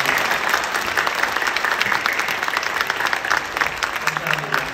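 Church congregation applauding to welcome newly ordained deacons at a thanksgiving service, steady dense clapping filling the room throughout, with faint voices underneath.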